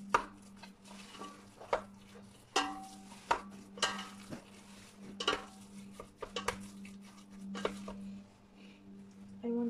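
Meatball mixture being mixed with added crackers, Filipino style, a series of soft squelching and tapping hits from hand or utensil against a bowl, close and irregular, over a steady low hum, with no talk.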